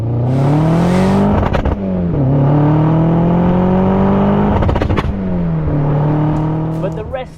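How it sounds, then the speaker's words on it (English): A restomod car engine runs smoothly at a steady pitch, dipping briefly twice as revs change, with light clicks and a voice faintly underneath. "Nothing wrong with the engine, which is nice and smooth and well run in now."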